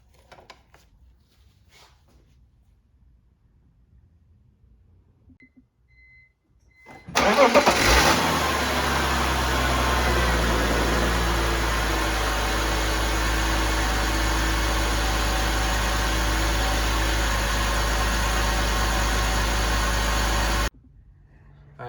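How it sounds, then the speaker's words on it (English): A 2002 BMW E46 engine cranks and catches after a quiet stretch, then settles into a steady, loud idle that runs for over ten seconds before stopping. "We're gonna run the motor real quick"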